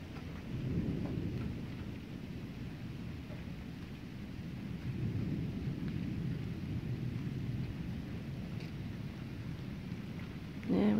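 An evening thunderstorm in the Ozarks at Mountain View, Arkansas: low rolling thunder rumbles in long swells over steady rain, with a sharper sound closing the stretch.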